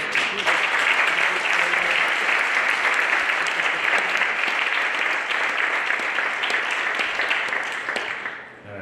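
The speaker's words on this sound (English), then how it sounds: "So, round of applause for our federal delegation." An audience gives a sustained round of applause for a federal delegation at a public gathering, a dense, even wash of clapping from many hands that holds for several seconds before tapering off at the end.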